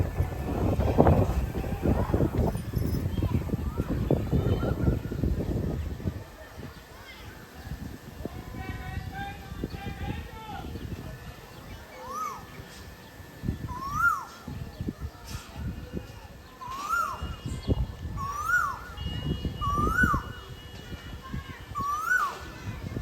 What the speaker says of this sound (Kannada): ಇಲ್ಲಿ ಬರೋದ್ರಾಗ ಒಂದು ಕೋಗಿಲೆ ಕೂಗಾಕತ್ತಿತ್ರಿ.